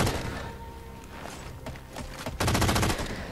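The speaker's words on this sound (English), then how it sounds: "Who else is shooting at me?" Rapid gunfire in the video game Halo 4, dense bursts of automatic weapon fire and thuds throughout, growing louder and more continuous toward the end.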